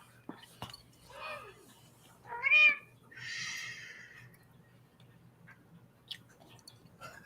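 A cat meows indoors a few times, soft and fairly close, in short mewing calls over low background noise, with faint whispery sounds in between.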